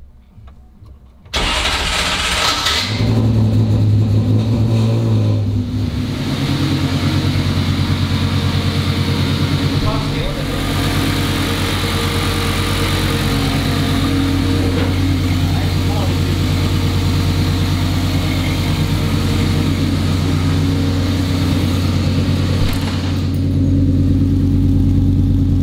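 Volvo race car engine cranks and fires, then settles into a loud, steady idle with a deep rumble, running with its exhaust system fitted and blipping now and then across a long stretch.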